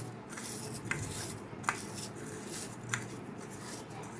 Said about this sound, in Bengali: এখানে নিম পাতা ভাজা যেটা আছে ওটা আমি গুঁড়ো করে নিচ্ছি।